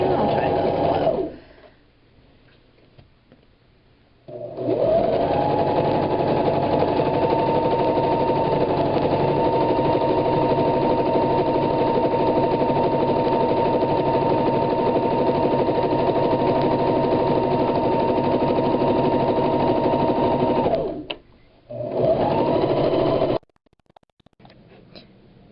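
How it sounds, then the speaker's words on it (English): A sewing machine stitches hair wefts in a long, steady mechanical whir lasting most of the span, starting and stopping abruptly, with quiet pauses at either end. "Sorry if the camera's a little shaky while it's sewing."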